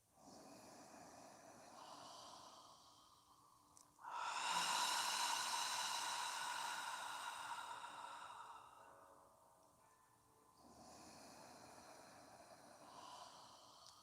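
Deep slow yoga breathing, a long airy exhale swelling in and fading out, followed by quieter inhaling and another breath beginning, close and soft with no talking.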